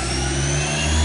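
Daewoo 150G CNC gang lathe spindle with Fanuc control spinning at 3000 RPM, a loud continuous machine whine and hum whose low tone climbs slightly as it speeds up near the end.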